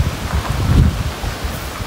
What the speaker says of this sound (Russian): Ой, какой ветер.